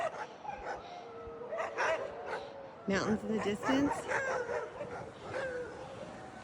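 Iditarod sled dogs at their houses in a roadside Alaskan yard keep up an excited chorus of yips, whines and barks, moderately close, while a person talks over them.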